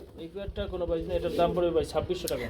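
Domestic pigeons at a market stall cooing in soft, repeated low calls, mixed with steady chatter from people bargaining nearby.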